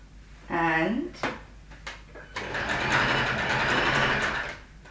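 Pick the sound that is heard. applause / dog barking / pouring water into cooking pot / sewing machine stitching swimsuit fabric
sewing machine stitching swimsuit fabric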